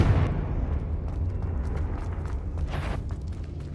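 A Confringo spell explosion in Hogwarts Legacy opens with a loud burst that settles into a sustained rumbling roar with scattered crackles, fading slightly toward the end.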